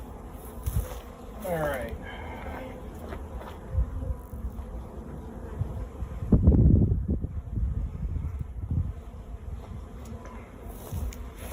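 Honeybees buzz loudly and constantly around an open hive during an equal split, a dense close drone with wind noise and handling bumps, while someone speaks briefly over it.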